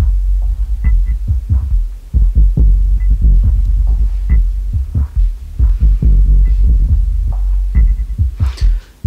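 A synth signal runs through a Xaoc Devices Data Bender Eurorack effect module, giving loud, throbbing low pulses in an uneven, stuttering rhythm, heard alone without talk.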